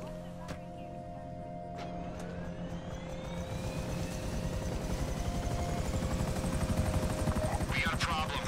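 Buzzard attack helicopter in Grand Theft Auto V, its engine and rotor spinning up and building to a steady, loud pulsing whine over several seconds, with voices talking over it.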